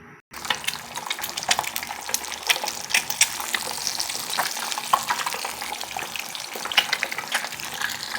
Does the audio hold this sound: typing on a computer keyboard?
no